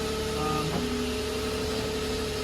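An old beater car's engine runs at a steady idle close by, a constant mid-range drone with a brief shift in tone early on and no speech.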